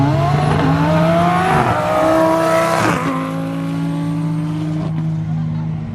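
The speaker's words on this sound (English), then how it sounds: "Here comes that Lambo Hurricane." Lamborghini Huracan twin-turbo race car driving past at a roll racing event, a loud close engine note climbing through gear changes and fading away with a steady drone behind.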